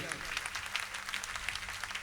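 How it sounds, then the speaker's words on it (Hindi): A devotional gathering at a Jain sermon and kalash-installation ceremony in Katangi breaks into a brief, fairly faint patter of applause, a short burst of many hands clapping. "आप लोग सहर्ष ताली बजा दीजिए"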